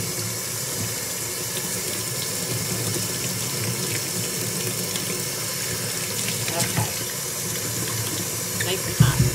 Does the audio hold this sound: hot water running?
yes